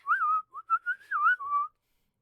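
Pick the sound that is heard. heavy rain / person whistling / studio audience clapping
person whistling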